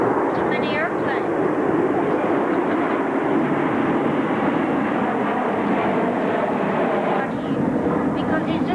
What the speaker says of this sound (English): too many airplanes